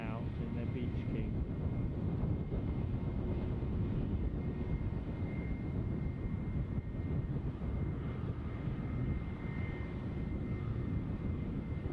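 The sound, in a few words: Italian Air Force Beechcraft King Air aircraft departing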